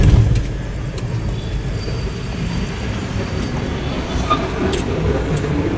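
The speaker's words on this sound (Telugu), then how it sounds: "ఇప్పుడే కదిలింది ట్రైన్, చాలా స్లోగా వెళ్తా ఉంది" A train on an overnight journey creeps slowly along the track, heard as a steady low rumble close by, with faint rattles and no speech.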